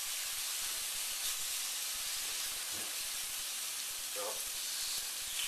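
Rouladen meat rolls sizzle steadily while browning on all sides in a hot pan, a continuous close hiss with a brief spoken word near the start.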